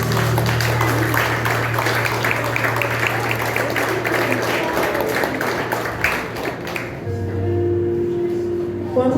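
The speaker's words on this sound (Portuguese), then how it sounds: "Em nome de Jesus, dê um aplauso à maravilha." Church congregation applauding during a celebration service, steady crowd clapping over a sustained low tone from instruments, fading after about six seconds as music continues underneath.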